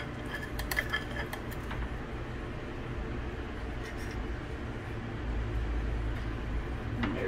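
A utensil scrapes and clinks against a tightly stuffed pan of carnivore enchiladas in mole sauce, with soft, intermittent metallic scoops and taps heard close up over a quiet background.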